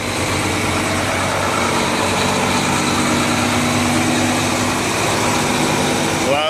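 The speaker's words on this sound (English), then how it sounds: "Loud truck, totally screwing up my shot, man." A truck engine idles loudly nearby at a truck stop, producing a steady low rumble with a faint rising tone partway through that holds for several seconds before ending in a brief squeal.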